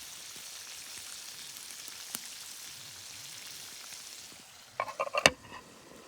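Food sizzles in a pan on a camp stove outdoors, a soft steady hiss throughout, followed near the end by a short cluster of louder clinks and knocks from handling the cookware.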